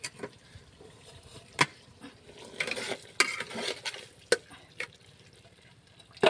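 Goat mutton tipped into a cooking pot for mutton kosha: scattered clattering knocks and scrapes against the pot over a low sizzling, frying bed, with a few sharper hits spaced through.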